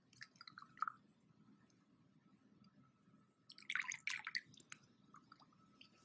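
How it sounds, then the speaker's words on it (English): EcoBioClean dispersant is sprayed onto crude oil floating in warm salt water, giving faint drips and soft liquid spatters, then a louder burst of splashy spray sounds near the end. "We're going to spray it on."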